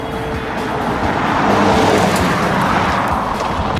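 A 2.4-liter four-cylinder engine in a mid-sized sedan runs with a loud, coarse, steady roar and broadband road-like noise, constant and close, with no talk.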